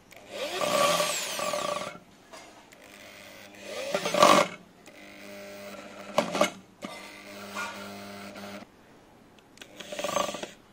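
A Cheston 13mm rotary impact drill drives a screw into wood in several separate bursts, each a loud whirring grind of a few seconds separated by quiet pauses, with a faint rattling hum between.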